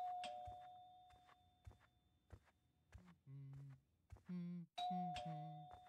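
Doorbell at the front door in the horror game The Kidnap, a few clear electronic ding-dong chimes ringing out over quiet footsteps and small noises, loud and close.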